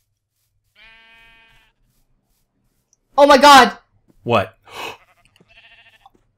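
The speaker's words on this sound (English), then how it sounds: "There's some sheep." A sheep in the Minecraft video game gives a brief, thin bleat early on, followed by loud, excited voices talking over the game.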